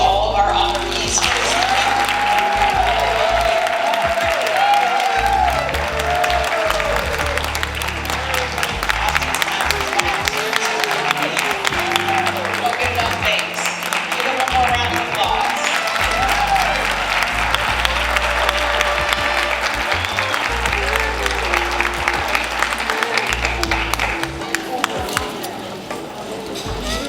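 Sustained applause from a gala audience honoring award recipients at an awards event in Charlotte, NC, steady and full with claps and crowd noise running throughout, with some speech layered in.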